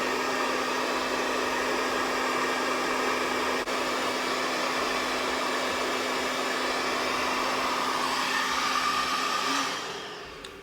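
A hair dryer with a diffuser attachment blows on curly hair, giving a loud, steady whirring hiss with a constant hum that runs unbroken before it cuts off at the very end.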